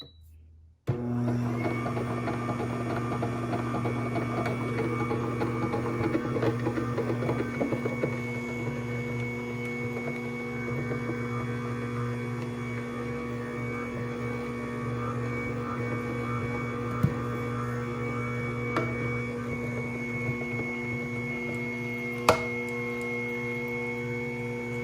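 An Aucma slow masticating juicer switches on and runs with halved clementines, giving a steady, loud motor hum with a constant whine, plus a couple of sharp clicks toward the end.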